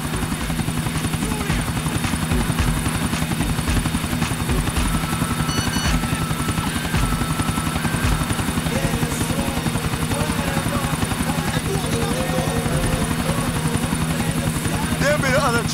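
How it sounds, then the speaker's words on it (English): Helicopter in Grand Theft Auto 4 holds a steady loud rotor drone with low thudding beats for the whole stretch, while voices talk over it. "There be the other chopper."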